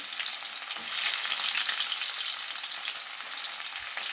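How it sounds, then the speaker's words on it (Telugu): Onion frying in hot tempering oil for a stir-fried broad bean dish, a dense, bright crackling sizzle held steadily at close range with no one talking. "పోపు వేగిందండి ఇప్పుడు దీంట్లో ఉల్లిపాయ వేసుకున్నాము"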